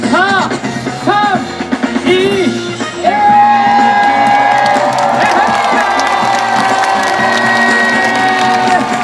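A festival crowd on Nodeul Island in Seoul cheers, whoops and applauds a b-boy breakdancing performance. The dense, loud roar of many voices swells and holds steady throughout, with shouted calls and bursts of clapping.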